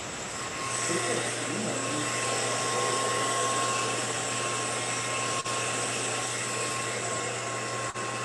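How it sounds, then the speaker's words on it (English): A hair dryer blows hard in a loud, steady whooshing roar with a constant motor hum, running without pause across the whole stretch. "Now with that blow dryer blowing kind of hard like that."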